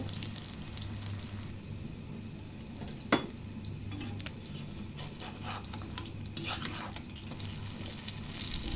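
Eggs frying in a pan for khichuri, a steady sizzle and crackle with an occasional utensil clink and scrape against the pan, close and continuous without any talking.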